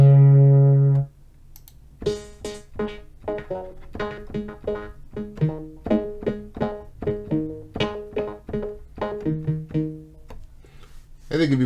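FXpansion DCAM Synth Squad glitch chord patch, a dry electronic synth playing a rapid stuttering series of short chopped chord hits in an irregular rhythm, loud and close, following a brief sustained tone at the start.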